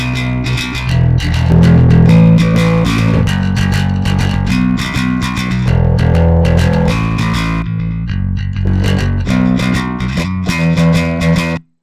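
A heavily distorted bass guitar plays a loud, gritty riff with punchy picked notes, a brief thinner passage midway, then cuts off abruptly.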